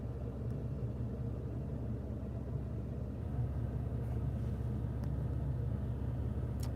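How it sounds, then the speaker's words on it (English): A Ford F-150 pickup truck driving, heard from inside as a steady low engine and road rumble at an even, moderate level, with no talking. "since I'm here and I'm in my F-150, we might as well take a drive"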